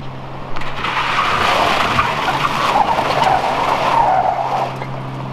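A worn Ford F150 pickup skids hard with continuous loud tire squeal and engine roar lasting several seconds, close and steady, with no talking.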